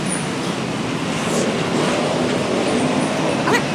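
The LRT-1 light rail train in Manila near Doroteo Jose station, a steady loud rumble and rattle heard from inside the car with faint squeals and clicks, continuous throughout, no talk.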